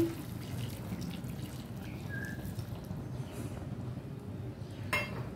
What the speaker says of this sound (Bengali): এখানে 1 গ্লাস পরিমাণ পানি দিয়েছি।